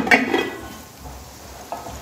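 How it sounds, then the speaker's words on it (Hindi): Spoon stirring a Punjabi potato, pea and carrot sabzi in a pan: a couple of close scraping strokes at the start, a quiet stretch, then another short scrape near the end. "आपने इस तरह थोड़ी थोड़ी देर बाद इसमें चम्मच चलाते जाना है"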